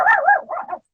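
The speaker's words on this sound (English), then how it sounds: "sorry, that's my dog" A dog close by gives a quick series of loud yips and barks, about three bursts within a second, heard on its own.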